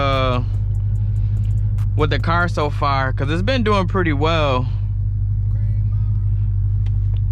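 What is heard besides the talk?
Dodge Hellcat Widebody car driving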